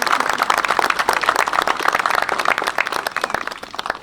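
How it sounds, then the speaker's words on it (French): A crowd at an outdoor May 8 commemoration ceremony claps for a few seconds, a dense patter of many hands, fairly near and steady before thinning toward the end. "je pense qu'on peut applaudir Jean et la audicienne"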